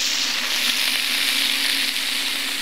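Venison medallions fry in a hot pan with a steady, loud sizzle that hisses evenly throughout, with no voices.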